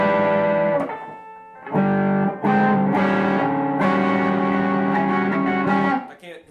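A 1972 Fender Telecaster Thinline electric guitar played through a distortion pedal rings out in sustained, loud chords with gritty overdrive, starting after a short pause and holding steady until the notes fade at the end.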